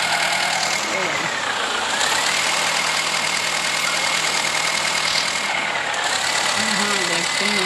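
The engine of a New Holland 3232 tractor in a video game runs with a steady, continuous mid-pitched drone throughout, while a person talks over it.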